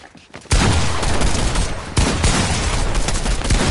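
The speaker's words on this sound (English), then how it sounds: "he's shooting at us" Rapid gunfire from a Fortnite match, dense and loud, bursting in at about half a second and running almost without a break. A brief dip comes near two seconds before the volley resumes just as hard, with faint voices under the shooting.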